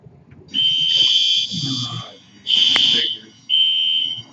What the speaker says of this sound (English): For testing alarms and all the buildings.